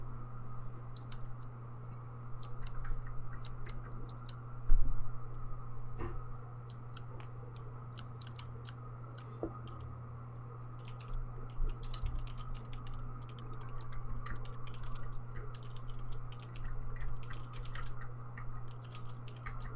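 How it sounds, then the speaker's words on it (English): Computer keyboard typing during a game tournament, rapid irregular clicks and key taps running throughout at moderate distance over a steady low hum. "Hear a lot of typing going on."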